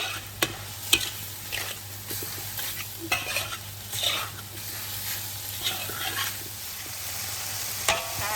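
Minced pork stir-fried dry in a pan for Thai khua kling, a continuous soft sizzle under repeated scraping and stirring strokes of a utensil, with occasional light clinks against the pan and no voices.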